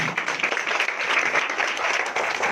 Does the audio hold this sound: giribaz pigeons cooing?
no